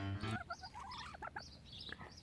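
Silkie and Araucana chickens cluck and chatter softly in short, uneven calls, with one louder squawk at the start; fairly quiet and close, in a garden.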